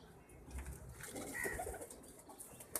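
A pigeon coos softly as it is caught by hand, a few low, rounded coo notes close by amid rustling and light handling noise.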